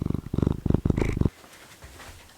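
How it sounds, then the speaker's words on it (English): A male cat meows to be let outside, giving a quick run of loud, close, rhythmic vocal bursts that stop abruptly, followed by near quiet. "He's meowing to go outside, and I will let him outside"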